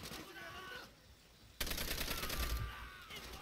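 Gunfire in the Call of Duty: World at War video game, heard as dense bursts of machine-gun and rifle fire that grow louder partway through and continue steadily to the end, with no talk.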